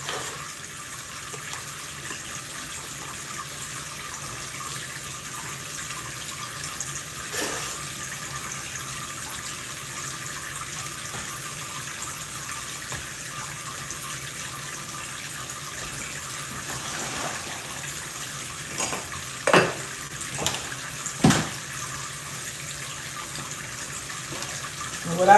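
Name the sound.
water running from tap into sink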